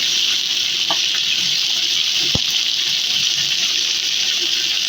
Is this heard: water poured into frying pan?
yes